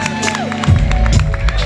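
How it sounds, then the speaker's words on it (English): A concert audience cheers, whoops and claps loudly and close, with crowd voices mixed in and low musical tones from the Detroit players underneath. "Do a nice round of applause for Mr."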